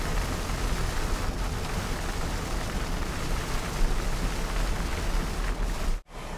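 Rain drums steadily on the soft top of a 2023+ Ford Bronco driving at about 55 mph, a dense, even hiss and patter mixed with road roar from inside the cabin.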